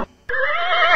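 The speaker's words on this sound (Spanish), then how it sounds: "Vamos a oír cómo hace el caballo." A horse whinnies in one sustained, loud neigh after a brief click, heard alone as an animal sound effect within a children's song about Noah's Ark.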